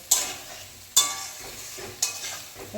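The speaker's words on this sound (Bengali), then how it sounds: "এটাকে আবার শুধু কষাতে হবে ভালো করে কষানো হয় তেল ছেড়ে দিলে তারপর জল দিতে হবে" A dish is stir-fried in oil, a soft steady sizzle punctuated by three sharp metallic scrapes of a spatula against the pan, heard up close with no talking.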